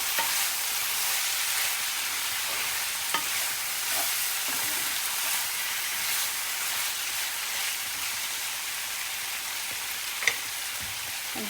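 Spiced soybean chunks frying in a pan, a loud, steady hiss of sizzling oil running throughout, with a few soft stirring scrapes and one sharp clink near the end.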